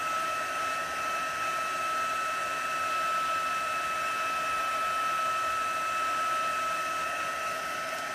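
Heat dryer blowing over a craft workshop project, a steady high-pitched whine with an even airy rush, close and continuous with no talk.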